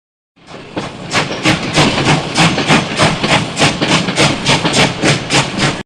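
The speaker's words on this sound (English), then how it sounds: "Train." A train chugs rhythmically with evenly spaced, hissing steam-like bursts, loud and close, beginning after a short silence and continuing without any talk.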